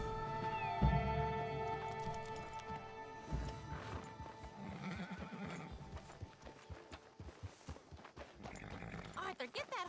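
A horse in Red Dead Redemption 2 neighs loudly and whinnies, with clip-clopping hooves and game sounds, close and prominent over background noise.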